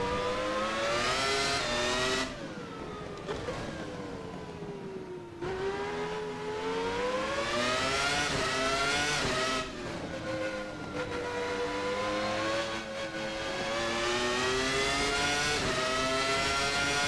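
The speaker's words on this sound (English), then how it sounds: "You can almost hear the air going through the intake plenum on that engine behind us." A high-pitched Williams FW19 Formula 1 engine in a racing simulator game revs continuously, rising and falling through gear changes with a sharp, airy intake whine, loud and close, with no voices.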